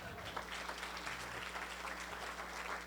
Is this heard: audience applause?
yes